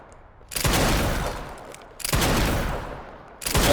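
Gunfire in the video game Resident Evil Requiem comes in three loud, close bursts about a second and a half apart, each a sharp blast trailing into a rattling decay before the quieter gaps.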